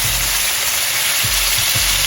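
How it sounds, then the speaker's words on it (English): Steady, loud sizzling of beef steak searing in a hot pan, a continuous crackling hiss with faint low thumps underneath. "Always want to hear that sear. If you don't hear that sizzle"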